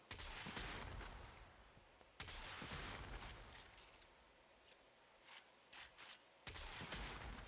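Corinth Prime air-burst pellets detonate in the shooter game Warframe as a series of sharp bursts, a few big blasts separated by gaps and smaller pops, fairly quiet overall.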